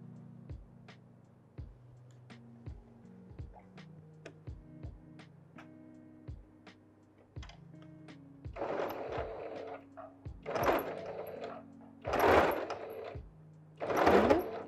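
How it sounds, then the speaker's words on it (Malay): A sewing machine stitches a batik face mask in short, separate runs of rapid mechanical ticking. The bursts grow louder and busier toward the end, heard close by in a quiet room with no voices. "Kita akan jahit bahagian ini satu tapak."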